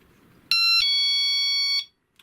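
A cheap magnetic dollar-store door or window alarm shrills out a loud, steady electronic tone for about a second and a half, starting abruptly and cutting off just as sharply.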